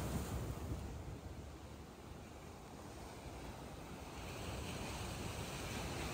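Ocean surf roars steadily as high-tide waves surge onto the shore at Boa Viagem beach, Recife, a broad continuous wash with wind buffeting the microphone and no voices.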